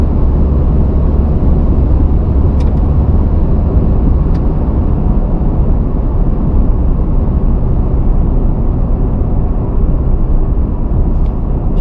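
Steady loud low rumble of a 2024 Toyota Tacoma overland build climbing a steep hill, holding one gear with constant engine and road drone throughout and no talk.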